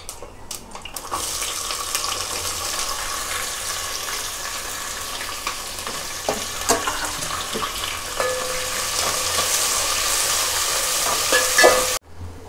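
Chopped onion for veg biryani frying in a pan, heard as a continuous close sizzle with a few scraping stirs and light clicks, steady for several seconds before stopping abruptly, with no talking.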